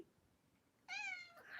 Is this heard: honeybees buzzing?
no